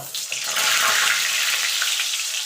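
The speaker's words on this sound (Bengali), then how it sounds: "এবার আলুগুলোকে ভেজে নেব" Potatoes frying in hot oil in a wok for a Bengali chicken and potato curry, a steady, close hiss and crackle of sizzling oil that holds loud and unbroken throughout, with no talking.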